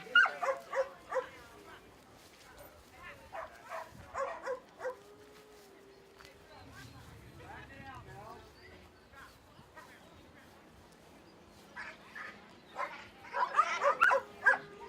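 A dog whimpers, yips and barks in short bursts during disc dog play at a throwing session, mixed with a handler's nearby speech and some outdoor background noise.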